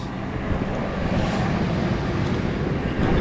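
An old bus engine runs with its full exhaust refitted, giving a steady low rumble and droning roar that holds even and close for a few seconds, with no talking.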